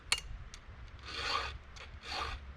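A hand file rasps against a chainsaw chain clamped in a small Harbor Freight vise: a sharp tap, then two slow, close filing strokes with a short pause between them.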